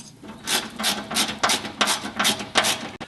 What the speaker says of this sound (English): you're going to install 4 of the shorter bolts here and the 4 longer ones here using a 3/16 Allen wrench